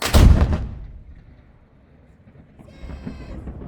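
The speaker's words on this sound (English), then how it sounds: "Eight gun, fire!" Ceremonial cannon shot from the Valletta Saluting Battery during a gun salute marking St. Paul's Day, a single loud booming blast that decays into open-air rumble and faint distant ambience.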